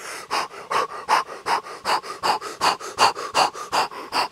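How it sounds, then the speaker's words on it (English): Rapid, rhythmic panting as a breathing exercise: about sixteen short, even breaths in quick succession, close and clear, with no talking. "we're gonna start to pant like this"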